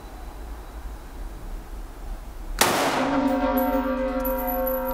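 A single SIG 550 rifle shot cracks sharply at a 300 m shooting range, followed by a ringing metallic tone that lingers over a low background hum.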